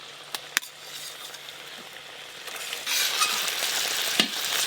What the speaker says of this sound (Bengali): ভেজে রাখা সব বেগুনগুলো দিয়ে দেব।